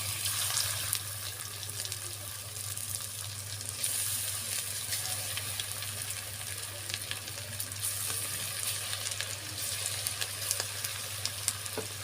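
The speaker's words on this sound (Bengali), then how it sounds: "এখন আস্তে আস্তে পকোড়াটা দিব তেলে।" Chicken pakoras deep fry in hot oil, giving a dense, even sizzle and bubbling that runs steadily throughout, with a low steady hum underneath.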